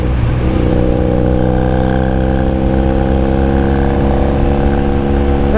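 Honda Rebel 250 motorcycle engine running loud and close with a rough, throbbing exhaust note, holding fairly steady revs with a slight rise near the end.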